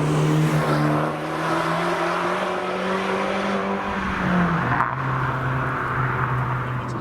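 Abarth 695 Anniversario engine heard from inside while driving, a loud steady rasping drone that holds its pitch, dips briefly as if shifting, then settles back into a sustained hum.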